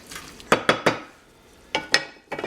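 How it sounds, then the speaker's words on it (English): Brandywine heirloom tomato salsa base stirred in a bowl: a quick run of three sharp spoon-against-bowl knocks, a pause, then two more clinks and a final flurry of wet scraping taps, close and moderately loud. "just make sure you keep mixing up your base ingredients"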